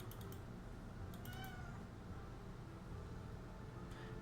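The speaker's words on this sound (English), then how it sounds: "Sorry if you hear my cat going crazy right here." A pet cat meows in a quiet room: a few short, faint cries in small bursts near the start, in the middle and at the end, over a low steady background hum.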